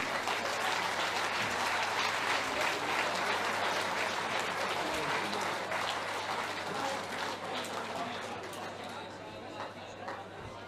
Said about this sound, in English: A massive round of applause for your Welsh Open Boys finalists